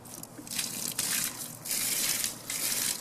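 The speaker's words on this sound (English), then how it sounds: "so I'm going to add a little bit of water here." Water poured from a container into dry packed soil around a wooden fence post, a rushing splashy gush in several pulses with brief breaks between, close and moderately loud.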